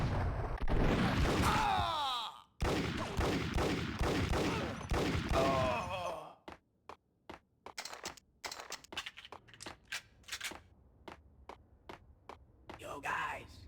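Rapid sharp gunshots ring out in Max Payne, a fast volley of loud cracks in the latter half, following stretches where voices talk over crackling game noise.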